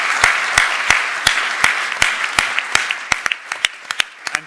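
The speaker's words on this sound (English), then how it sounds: "If you could give me a round of applause for our panel." Applause for a panel at a climate action conference starts as a full, dense clapping crowd, then thins into scattered, separate claps that fade out over about four seconds.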